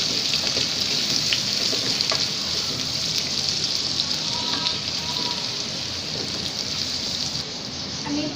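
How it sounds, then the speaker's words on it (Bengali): Chopped onions hit hot oil with whole spices such as cardamom pods and sugar, producing a loud, dense, steady sizzle that holds evenly throughout, close to the pan. "আমি দিয়ে দেব পেঁয়াজ কুচি,"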